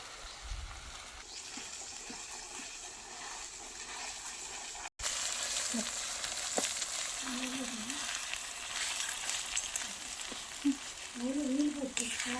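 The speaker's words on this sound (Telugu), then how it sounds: "తిరగమాత వేగిందండి వేసేస్తున్నాను" A tempering of turmeric, cumin, crushed spice and curry leaves fries in oil for coriander chutney, with a steady close sizzle, a brief cut partway through, then continued crackling and faint stirring.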